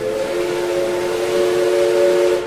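A locomotive whistle sounds as the train approaches on the railway line: a loud, sustained multi-tone steam-style blast held steadily for the whole stretch, with no speech.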